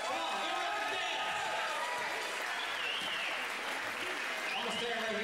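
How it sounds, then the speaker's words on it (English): A crowd at a men's college basketball game applauds in a dense, steady wash of clapping that keeps going throughout, with a voice heard over it. "Hey, let's clap him on, folks."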